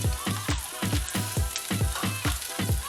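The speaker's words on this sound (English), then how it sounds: "So let's give that a little bit of a stir fry" Onions, peppers and garlic are stir-fried in a pan, with a loud, close sizzle broken by fast, regular scraping and tossing strokes about twice a second.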